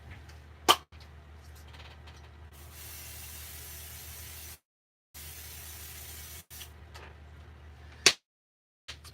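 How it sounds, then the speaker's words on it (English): Long hissing bursts of aerosol spray, two sustained sprays separated by a brief pause, with sharp clicks of the can before and after. "So I'm going to quick grab this and spray this off camera."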